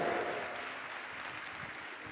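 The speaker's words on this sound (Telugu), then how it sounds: "గట్టిగా చప్పట్లు కొట్టాల." A church congregation claps together in loud, steady applause that fills the room, dense and continuous from start to finish, with no voice over it.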